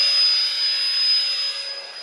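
An electric air pump inflates an Aerogogo inflatable tent, giving a steady, close high-pitched whine and airy hiss with a thin tonal line that holds for two seconds before easing slightly.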